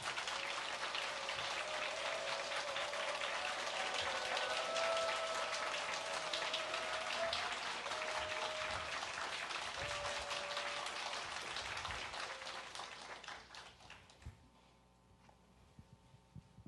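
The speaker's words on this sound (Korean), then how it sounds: "우리 작가님 앞으로 모실 때 큰 박수로 다시 한번 환영해 주십시오" Audience applause welcoming an author to the stage at a church evangelism festival: dense, sustained clapping fills the hall for about fourteen seconds, then tapers off into quiet.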